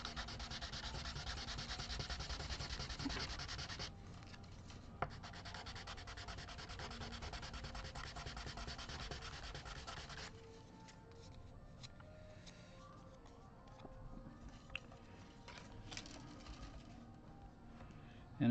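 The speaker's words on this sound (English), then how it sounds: "take it to my sanding block here" Steady rhythmic strokes of sanding wood on a sanding block rub back and forth for about ten seconds, then quieter intermittent scraping and tapping follows.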